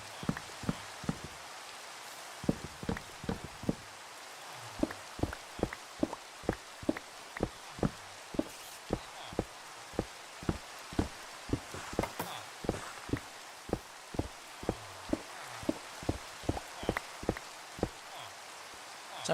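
Steady rain falls in a video game, forming a soft continuous wash, while regular thudding footsteps cross it for the whole stretch, faint and even.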